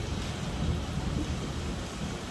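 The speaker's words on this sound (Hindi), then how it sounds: "बारिश आ रही है यार।" Heavy rain falling at a home, a dense continuous hiss and patter of drops on surfaces with a low rumble underneath, steady throughout and with no voices.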